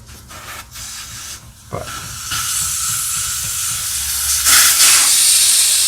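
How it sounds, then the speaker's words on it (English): Air hisses out of a lawn tractor tire as the valve stem core is pushed down, a loud close rush that starts after about two seconds and swells steadily, with one word spoken just before. "you could just push down on this little component and that'll let out all the air as well."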